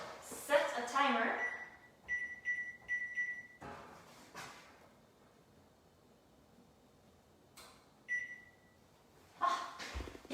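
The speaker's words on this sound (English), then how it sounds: "I figured out how to use the microwave timer just for this class" Kitchen microwave timer going off, a quick run of four high electronic beeps followed later by a single beep, with people talking in between.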